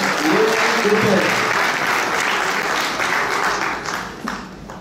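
An audience at a live Haitian quiz show, during an adults' match, applauds in a dense, steady burst of clapping that gradually fades away.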